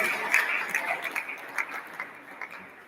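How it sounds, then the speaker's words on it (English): An audience at a business and leadership summit gives a short round of clapping for the governor and guests, with a brief swell that thins out, moderately close and fairly faint. "a round of applause once again for the governor and every invited guest here present"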